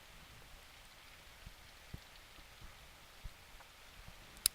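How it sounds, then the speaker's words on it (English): Light rain in a visual novel game falls steadily and softly, a quiet hiss with a few scattered, distinct droplet taps and no voices. "I didn't feel inclined to increase my pace, and leisurely walked home amidst the rain."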